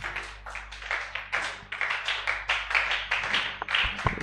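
A church congregation applauding, a brisk, somewhat distant patter of many hands clapping in uneven rhythmic bursts.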